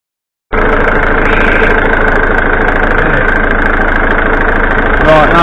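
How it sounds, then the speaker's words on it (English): A 1989 Ford Fiesta Ghia engine, sitting unused since 2014, suddenly catches after a moment of silence and settles into a loud, steady, slightly knocking idle close by. "we're going to try and start it"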